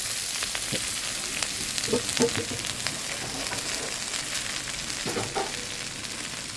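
Red amaranth greens fry in a hot pan with a steady, dense sizzle that holds loud throughout, broken by a few soft stirring scrapes near the start and again toward the end.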